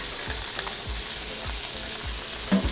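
Vegetables sizzle steadily in a hot pan with garlic and ginger for a stir-fry, a dense continuous hiss with a few soft thumps and scrapes as the food settles, close and alone with no talking.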